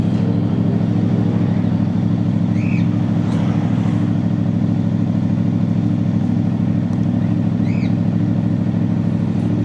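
CFMoto 450MT motorcycle engine idling steadily nearby, a constant low rumbling drone with faint high squeaks and chirps now and then, no talking.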